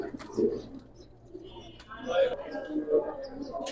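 Giribaz pigeons coo softly in short bursts at close range in a loft. Someone talks over the birds throughout.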